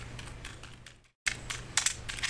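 Fast typing on a computer keyboard, close rapid key clicks in uneven bursts, broken by a brief silent gap before a denser flurry of keystrokes.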